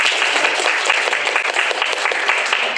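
An audience applauds at the close of an alumni career panel, steady, full clapping from many hands that stays loud and even throughout.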